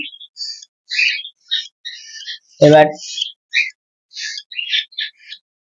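Pet budgerigars chirp in quick, bright bursts separated by short pauses, with one louder, harsher squawk partway through, all close by and clear against silence.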